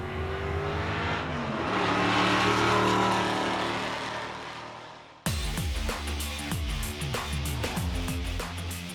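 Two retro-styled hot rods, one boosted and one naturally aspirated, rev before a head-to-head drag race: a loud sustained engine roar swelling and fading, then a sharp cut to rapid, throaty revving blips close by.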